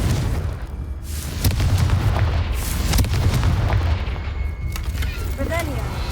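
Hogwarts Legacy's Confringo explosion spell going off as a series of booming blasts and sharp cracks over a low rumble, fairly loud, with a short voice heard between them.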